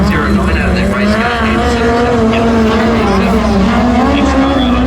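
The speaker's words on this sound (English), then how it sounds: "Next car out on track, seems like it's just him as well." A midget race car's engine roars steadily at a speedway track during qualifying, a loud sustained high-revving drone filling the whole stretch, with a commentator talking over it.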